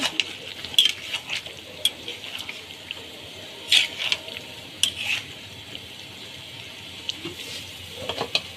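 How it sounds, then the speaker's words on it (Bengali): Chicken is stir-fried in a pot, with a low background sizzle broken by irregular scraping and clattering stirring strokes close by. "এই যে মাংসটা যে কষাইতেছি"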